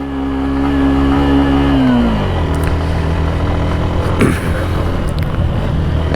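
A vehicle engine revving hard in first gear while climbing a steep, winding hill road to Keokradong, a loud close drone that drops in pitch partway through and then labors on steadily.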